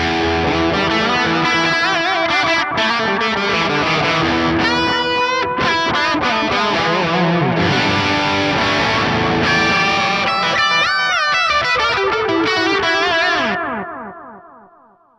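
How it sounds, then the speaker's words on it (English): Loud distorted electric guitar played through a NUX MG300 with a dark, repeating delay trailing each note, ending as the echoes fade out. "That's a really nice dark sounding delay."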